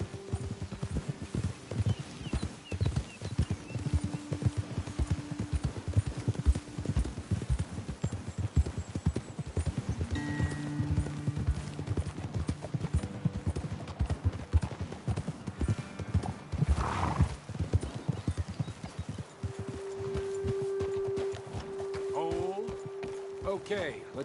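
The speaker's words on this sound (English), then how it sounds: "Best leave the horses back a bit." Steady, rapid clip-clop of horse hooves on hard ground throughout, close and continuous, with a brief snort and low hum in the background.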